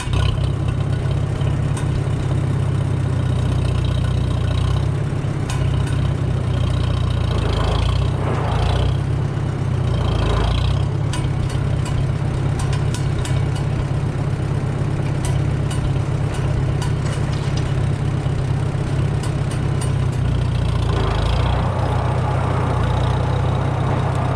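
A Farmall tractor engine pulls a huge black walnut log in first gear at about quarter throttle, a steady, loud low rumble that holds throughout with slight surges in load.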